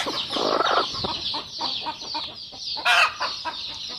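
Native country chickens at a poultry farm cluck and squawk close by in an overlapping, busy chorus, with one louder, sharper call near the end and no speech.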